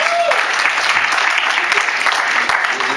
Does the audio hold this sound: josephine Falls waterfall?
no